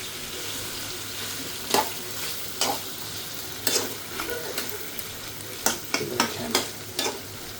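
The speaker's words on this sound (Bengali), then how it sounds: "খাসির মাংস পাক হচ্ছে" Goat meat is stirred and fried in a wok, with a low sizzle broken by sharp scraping strokes of the spoon at irregular intervals. A voice speaks a single brief word.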